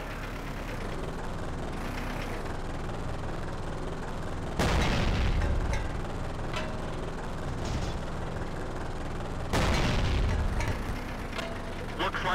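Tank cannon shots in a Garry's Mod battle, two loud booming blasts about five seconds apart over a continuous rumbling engine bed, with talking heard throughout.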